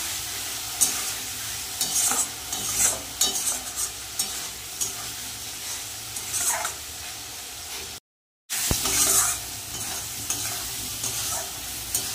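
Spice paste being stirred and sautéed in a pan for a mustard-oil fish curry, steady sizzling broken by frequent scraping strokes of a spatula, close and fairly loud, with a brief dropout partway through.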